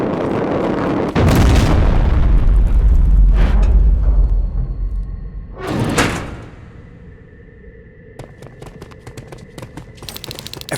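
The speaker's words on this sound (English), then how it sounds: "Rivers, door!" A heavy sliding door in the Terminator: Resistance video game grinds open with a loud, deep rumbling roar, then a sharp whooshing burst, followed by quieter mechanical clicks and a low hum.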